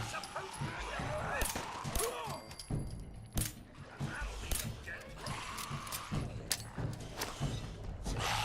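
A dog in the Fallout 4 video game yips, barks and whimpers in short bursts amid game effects, with someone talking over parts of it.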